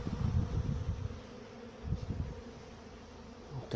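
Honey bees buzz around their hives during a mass orientation flight after a long spell of bad weather, with many insects droning close by and passing individuals swelling and fading.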